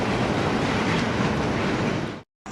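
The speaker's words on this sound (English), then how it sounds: "Now the train heads off to Succasunna to work Holland Manufacturing on the Chester branch." Freight train rolling past on the Chester branch, a loud, dense rumble of wheels and cars that holds steady, then cuts off abruptly near the end.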